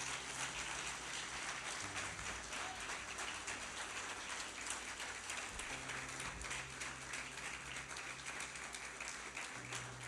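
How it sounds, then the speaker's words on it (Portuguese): Church congregation applauding Jesus during a sermon, a sustained, even wash of many hands clapping, heard at a distance and fairly faint, with no break across the whole stretch. "Se você recebe essa palavra, aplauda Jesus aí"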